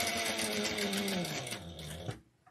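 A sewing machine runs fast and steady while backstitching a fabric bag, its rapid needle clatter close and even, then it slows and stops near the end.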